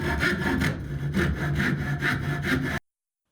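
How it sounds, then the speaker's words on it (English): Steady back-and-forth hand sawing through a wooden dowel rod, about eight rhythmic strokes close up, ending abruptly in silence. "After sawing off the tip or the fid off of the dowel rod"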